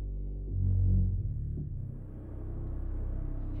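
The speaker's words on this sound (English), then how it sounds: "So here's the Labs pipe organ." A deep, rumbling low-register pipe organ tone from the Spitfire Labs Abyss preset swells and then settles into a sustained throbbing drone, played alone.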